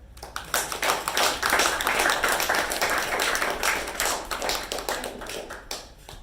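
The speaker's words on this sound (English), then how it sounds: "Then applause for that." Audience applause at a Toastmasters club meeting, a dense spatter of hand claps that swells in the middle and tapers off, steady and fairly close with no talking.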